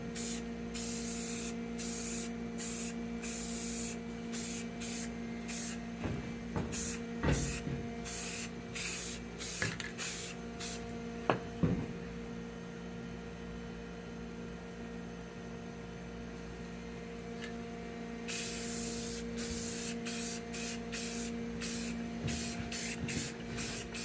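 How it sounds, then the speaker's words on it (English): Bursts of aerosol spray paint hiss in repeated short and long passes as black paint is applied to 1969 VW bus front brake components, with quiet gaps between the passes. "Now let's give it a quick coat of black paint, and we'll set this aside."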